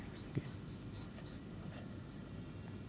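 Faint scratchy strokes of a diagram being drawn on a lecture-hall board, quiet and slightly distant against a low room hum.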